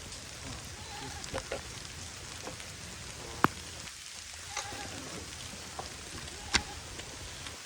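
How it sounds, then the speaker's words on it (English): Steady rain patters on a surface throughout, with a few sharper drips and taps standing out against the constant hiss. "it started raining pretty good"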